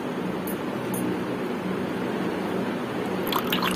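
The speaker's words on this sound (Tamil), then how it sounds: "நம்ம எடுத்து வச்சிருக்க இளநீரை வந்து இதில் சேர்த்துக்கலாங்க" Tender coconut water being poured into a nanari sarbath, a steady continuous liquid pour with a soft splashing wash that holds evenly throughout, close and moderately loud, with a few brief bright clinks near the end.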